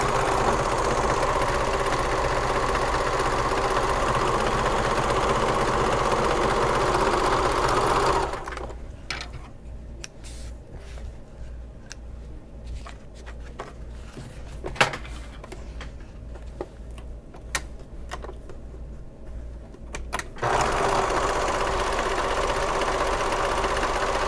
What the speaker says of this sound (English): first I'm going to sew these lengthwise on both edges with a 5/8 seam allowance